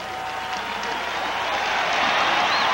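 Crowd at a 1988 college football game between California and Arizona cheering and clapping steadily, a broad, sustained roar of the stadium with distant voices mixed in.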